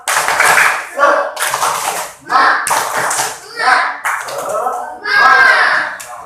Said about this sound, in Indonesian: Kita bareng-bareng tepuk semangat ya